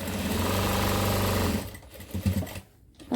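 A sewing machine stitches the folded hem of a petticoat. It runs in one steady, close whirring burst for about a second and a half, then stops, leaving faint handling noises.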